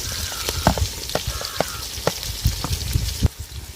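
Green chillies, capsicum and onion sizzling in hot oil for vegetable chitranna, a steady close fry broken by several sharp clinks and scrapes of a spoon against the pan, with no voices.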